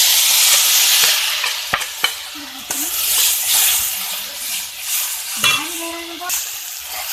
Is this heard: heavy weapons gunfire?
no